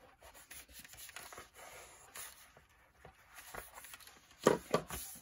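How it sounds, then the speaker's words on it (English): Paper glued onto an album cover is rubbed down firmly by hand, making soft, close scuffing strokes that are quiet at first and end in a couple of louder rubs. "Stick it down. Burnish that down."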